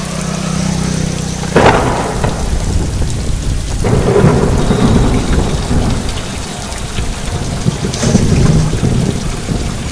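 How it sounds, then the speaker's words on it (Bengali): Rain falls steadily over a Newtown residential complex on an evening before Cyclone Yaas, with loud, close thunder booming three times and rolling off between the claps. "আর মধ্যেই আবার বৃষ্টি শুরু হলো"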